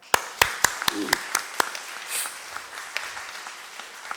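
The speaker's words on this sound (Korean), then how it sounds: "우리 먼저 크게 박수 한번 보낼까요?" Scattered hand claps in a Sunday church service, a handful of sharp distinct claps in quick succession that thin out into a few isolated ones, fairly close and sparse rather than a full ovation.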